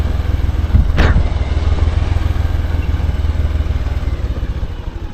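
A heavy motorcycle on a rough downhill track near Mount Santo Tomas by Baguio, with a steady low engine drone throughout and a brief rattle or clatter near the start, close and fairly loud.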